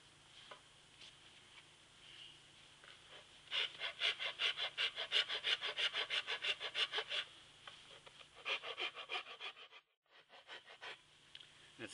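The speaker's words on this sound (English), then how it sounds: "I'm also going to reduce this hand a little bit while I'm grinding away in these areas." A power grinder shapes a hop hornbeam wood carving outdoors, giving a close, rapid pulsing rasp in bursts with brief pauses, loud and steady, with no speech.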